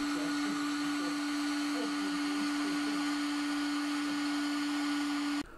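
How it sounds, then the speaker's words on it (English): A hair dryer blows into the wet carpet of a Volvo 240 left sitting in the woods, holding a loud, steady whirring hum with a constant tone before cutting off abruptly at the end. "to dry it I crammed the hairdryer into one of the orifices"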